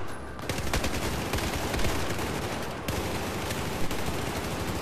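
Dense, continuous gunfire in the video game Battlefield 4, rapid automatic bursts and overlapping shots filling the whole stretch loudly with no talk over it.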